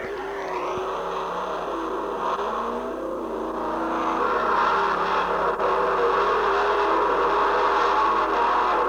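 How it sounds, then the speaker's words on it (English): A BriSCA Formula 1 stock car from the 1985 World Final pulls out of the pits, its engine droning steadily and loudly and rising in pitch as it moves off, with no talk over it. "Moving out of the pits now, just having the belts checked over there by clerk of the course Alan Barker"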